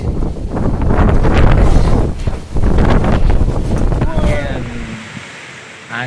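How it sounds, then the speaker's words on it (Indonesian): Strong daytime wind blowing through tall trees during a rainstorm in Moro, a loud continuous roaring rush with gusts that surge and ease, faint voices in the background. "Angin kencang di siang hari."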